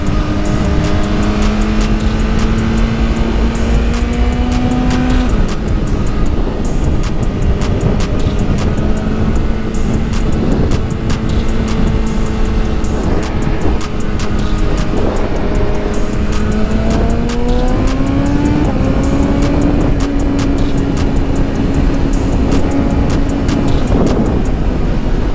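A BMW S1000RR motorcycle engine drones loud and steady, its pitch sliding through rev changes with auto-blipper downshifts, mixed with constant wind rush over the microphone.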